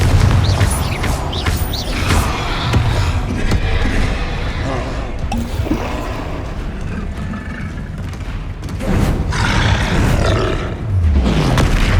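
Hogwarts Legacy video game combat with Confringo blasting spells going off, a continuous, busy mix of booms, roars and grunting impacts that swells and surges over several seconds, with no clear talk.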